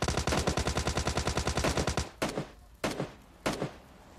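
Gunfire in the mobile shooter PUBG Lite, with the AWM sniper rifle involved: a fast, even burst of loud close shots for about two seconds, then three separate heavy booming shots spaced roughly half a second apart.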